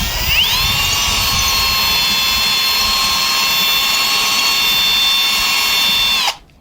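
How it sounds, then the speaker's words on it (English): A loud power drill whines steadily for several seconds as its bit enlarges a hole in a router base plate, its pitch rising as it spins up, then cuts off abruptly. "you're going to take your drill bit and you're just going to open that hole up just a touch"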